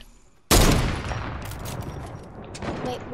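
Heavy sniper rifle shot in an online shooter game, one sudden loud crack with a booming rumbling tail that decays over a couple of seconds, followed by scattered fainter clattering game effects.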